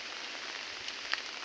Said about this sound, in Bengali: যে আমি এখন হাঁটছি বৃষ্টিতে, মাথায় ছাতা নিয়ে ভিডিও করছি